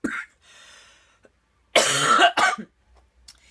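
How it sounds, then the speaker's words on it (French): A short cough, then after a pause a harsher, louder burst of coughing up close, trailing off into quiet breaths. "La toux s'en donne à cœur joie."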